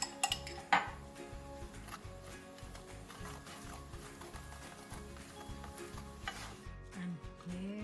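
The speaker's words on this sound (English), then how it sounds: "just finish it with some ghee on each side and cook for a few more minutes" Layered lachha paratha cooks in ghee on a pan with a steady low sizzle, while utensils clink and tap sharply near the start.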